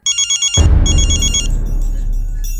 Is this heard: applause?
no